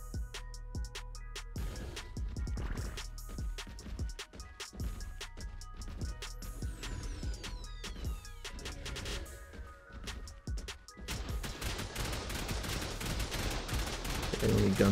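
Gunfire and turret fire in the survival video game ARK during a raid on a stone base, with dense, rapid bursts of shots and explosions layered over game music and a steady background rumble.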